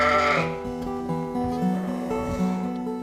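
Lambs bleat in a sheep shed, several overlapping wavering calls one after another, close and loud, with a busy chorus of voices filling the space.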